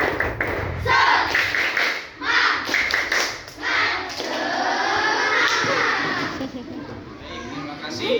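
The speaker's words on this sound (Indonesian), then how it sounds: "Coba semuanya, tepuk semangat" A second-grade Islamic studies class performs the semangat clap chant again, with bursts of clapping and energetic children's chanting close by, followed by a long stretch of overlapping young voices.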